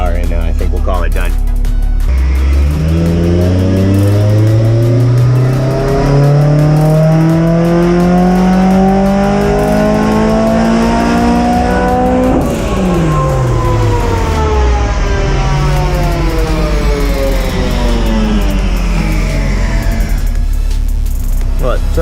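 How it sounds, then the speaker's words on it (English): A supercharged Honda S2000 engine revs steadily upward through a full dyno pull. It runs loud and close, with a rising engine note, then drops back down as the throttle is released. "I don't really expect much more power out of this final pull."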